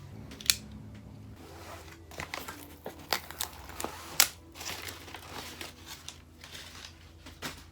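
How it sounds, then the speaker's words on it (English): Crinkling and rustling of packaging comes with sharp snips, tears and occasional thumps, close up and irregular, as boxes are opened and wrappings handled. "So let's get these boxes opened."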